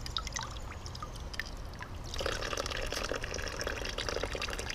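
Warm, clear coolant draining from a 2011 KTM 350 SXF motorcycle, a quiet trickle that grows into a steadier pour partway through, heard alone up close.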